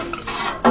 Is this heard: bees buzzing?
no